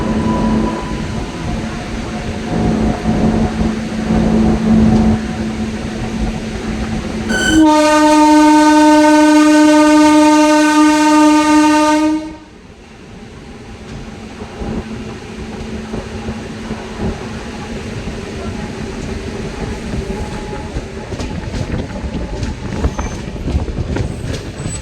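Howrah–Puri Superfast Express 12837 moving on the line, a loud sustained horn blast of about five seconds over steady rail rumble, then continued running noise after the horn cuts off.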